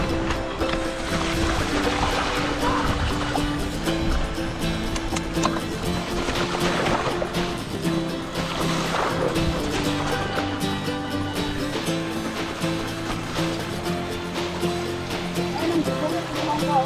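A river flows beside a mountain bike trail toward Gunung Timbong, making a continuous broad rushing wash, loud and steady, with faint voices mixed in.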